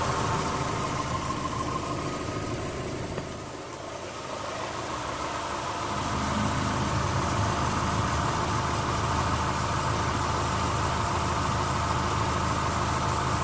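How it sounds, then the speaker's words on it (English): A Mitsubishi Lancer engine idles after an exhaust leak repair, holding a steady, even mechanical hum throughout, with a brief dip in level partway through and no voices. "All I hear is the injectors firing and the spark plugs."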